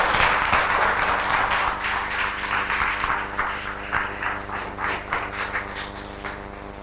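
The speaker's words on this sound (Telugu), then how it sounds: "గట్టిగా చప్పట్లు కొట్టి అందరూ చెప్పండి." Sustained applause from a large audience at a mega parent-teacher meeting. Dense, steady clapping fills the whole stretch, fairly loud and continuous, with a faint murmur of voices underneath.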